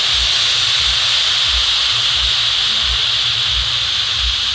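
Hot water is poured into a pot of pulao rice, giving a loud, steady hiss and splash that runs throughout with a faint rhythmic low thumping underneath.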